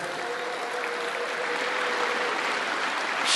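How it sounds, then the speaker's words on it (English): A crowd at a Bitcoin conference applauds a guest speaker, a fairly soft, even wash of clapping that stays constant and swells slightly at the close. "Can we get a round of applause for Elizabeth?"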